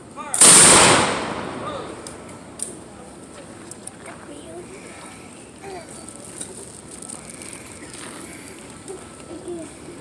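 A single loud gunshot cracks at the start, followed by a quieter outdoor ambience with faint scattered sounds.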